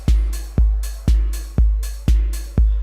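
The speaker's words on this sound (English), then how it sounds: "I have a little beat running on the TR-8 here already" A Roland TR-8 drum machine pumps out a steady four-on-the-floor kick with crisp hi-hats on the offbeats, loud and punchy, no voices.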